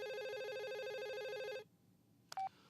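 A telephone rings with a steady electronic tone for about a second and a half, then stops abruptly into quiet, followed by a brief click and short beep like a line being picked up.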